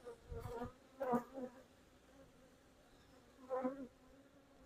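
Honey bees in an opened hive, droning in a faint, steady hum that swells into louder buzzing bursts near the start and again toward the end, with no talking.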